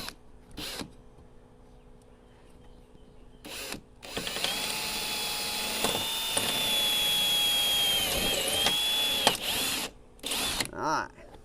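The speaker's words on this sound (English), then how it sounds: "I'm going to start out with a little hole first through this plastic and see if I can drill through that little metal bracket." A power drill bores a small hole through plastic and into a thin metal bracket while installing a curved LED work light bar on a vehicle, a steady whining drone lasting several seconds with brief bursts before and after.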